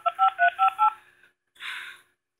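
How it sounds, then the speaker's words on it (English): Phone keypad dialing a number: four evenly spaced dual-tone beeps, then a pause and a brief softer tone burst, clear and close with no talking. "So I'm going to go ahead and type in her number."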